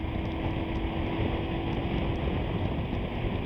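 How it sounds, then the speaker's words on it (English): Wind roars steadily and loudly across the microphone while riding a Sinnis Terrain T380 motorbike, a continuous low rushing blast with no talk. "Oh, I'm getting blasted by that wind again."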